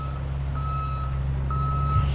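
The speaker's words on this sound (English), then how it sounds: "you can hear the beeping behind me. This is a water tender from the El Dorado County Fire District." A fire district water tender truck's reversing beeper sounds in slow, regular long beeps over a heavy engine drone, close by.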